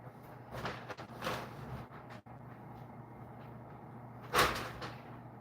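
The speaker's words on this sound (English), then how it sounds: "I just gotta wait till my daughter shuts my door." A door is pushed shut in a quiet room, with soft shuffling and a dull thud, followed by a sharper knock-like clunk near the end. No talking.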